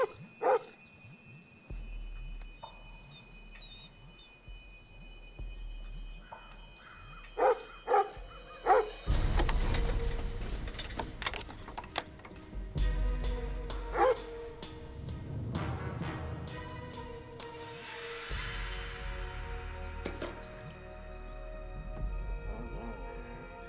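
In a disaster film scene, a dog barks repeatedly at something in a well, with short yips rising over a droning, rumbling score that swells and thickens midway.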